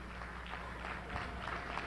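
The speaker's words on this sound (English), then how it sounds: "Let's give a warm round of applause to our brother" Faint, steady applause from an audience welcoming Kwame Ture to the stage at the Slave Theater, a soft wash of distant clapping with no clear individual claps.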